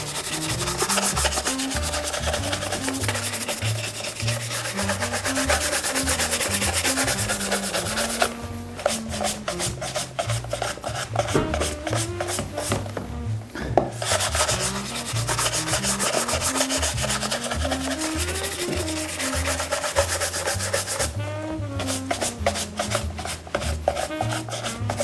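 Steady brisk rubbing of a brush over a leather shoe during a competition-level shoe polish, a continuous scratchy back-and-forth close to the ear with regular rhythmic strokes and brief pauses.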